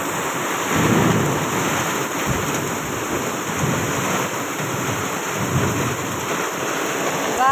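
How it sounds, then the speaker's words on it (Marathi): Heavy rain pours down steadily with deep, rolling thunder rumbling underneath, swelling at moments and never letting up across the whole stretch. "एकदम डेंजर पाऊस आलाय"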